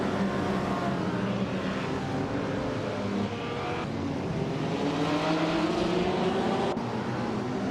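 Engines of race cars roar in a racing video game as a grid led by a vintage 1952 Jaguar C-Type starts, a loud, continuous layered drone with rising revs and no gaps.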